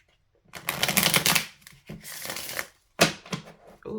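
Tarot cards being shuffled in quick riffling bursts, a long rustling run followed by shorter flurries with brief pauses between, close and crisp.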